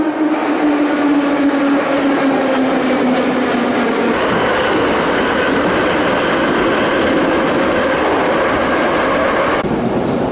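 A Saint Petersburg metro train running underground, a loud continuous rumble with a falling whine and faint rhythmic clatter, steady throughout with no talk.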